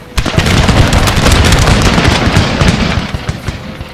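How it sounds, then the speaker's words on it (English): Massed musket volleys in the video game Empire: Total War, a loud dense crackle of overlapping shots rolling continuously for four seconds. "we're firing down on them now"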